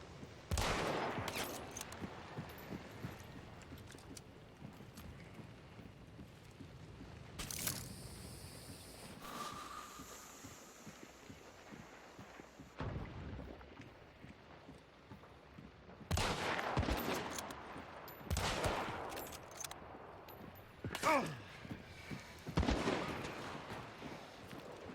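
Suppressed gunfire in a video game: clusters of sharp, clipped shots fire in irregular bursts, separated by quieter stretches of low background sound.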